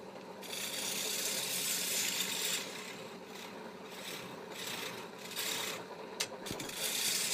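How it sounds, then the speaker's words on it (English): Bowl gouge cutting a wooden wine-table top spinning on a lathe, a continuous close hissing scrape that swells and eases as the tool works across the wood. "Note the tool that I am using is the bowl gouge"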